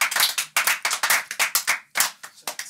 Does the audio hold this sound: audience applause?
yes